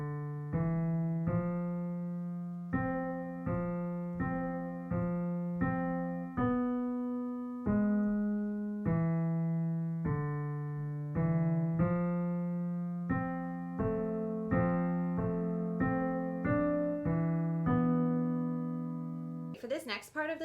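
Easy piano arrangement of a song from Encanto, played slowly with both hands together: a steady, clear stream of single notes over low bass tones. A brief voice breaks in at the very end.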